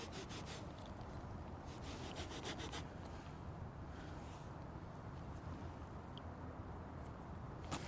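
A dirty silver écu coin is rubbed clean by hand. Close, continuous scraping and scrubbing strokes repeat steadily, with a few short, sharper clicks of contact near the start and end.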